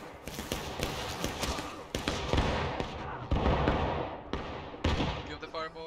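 Independent musket fire during a War of Rights Civil War battle: scattered, uneven shots crackle at varying distances in a steady, dense rattle, with a voice briefly heard near the end.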